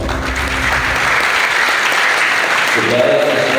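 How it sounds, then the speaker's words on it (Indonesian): Audience applause at a civil-service training session fills the room with dense, continuous clapping that stays steady for several seconds. "Tepuk tangan."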